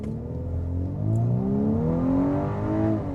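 A 2025 Volkswagen Atlas Cross Sport SEL R-Line SUV accelerates hard from rest in a 0 to 60 run, engine note climbing steadily in pitch, loud and close inside the cabin with no talking.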